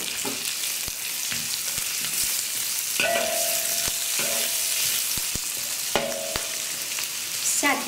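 Ginger and minced garlic are tossed into hot oil in a wok with already-fried meat, giving a steady crackling sizzle broken by several sharp clicks and scrapes of a spatula stirring, close up and without talking.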